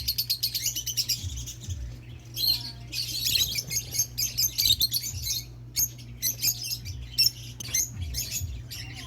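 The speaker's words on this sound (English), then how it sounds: "The mommy and the daddy bird." Caged pet lovebirds and parakeets, a breeding pair among them, chirp and tweet in dense, rapid bursts with some squawks, loud and close, with no talk.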